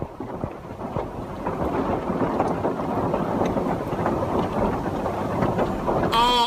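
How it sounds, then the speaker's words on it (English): Heavy rain roars steadily, broadband and wind-buffeted, with a brief high tonal sound near the end. "And it's pouring down rain!"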